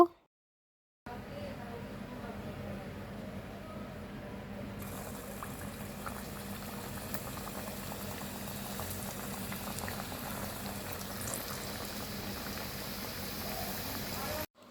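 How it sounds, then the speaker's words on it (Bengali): Samosas deep-fry in hot oil with a steady, dense bubbling hiss that holds evenly throughout, close and continuous with no talk over it. "এখন আমি এগুলো ডুবো তেলে ভাজবো।"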